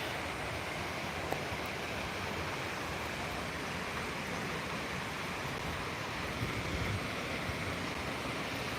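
Small fairy waterfall on Vancouver Island in spring, a steady broadband rush of falling water that holds even and continuous throughout, with no voices.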